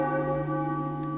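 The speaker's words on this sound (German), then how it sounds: "Wenn diese Glocke zum dritten Mal läutet, dann hat dein letztes Stündlein geschlagen." A bell tolls in the Final Fantasy IX video game, with a sustained, resonant ring and steady humming overtones that hang on through the whole short stretch.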